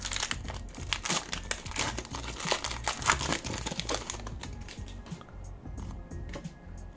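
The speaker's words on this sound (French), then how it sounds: "Et on entame donc les 10 derniers boosters. Oh, misère. C'est chiant à ouvrir." Pokémon card booster pack wrappers crinkle and tear as they are opened, with close, busy crackling bursts that ease off toward the end.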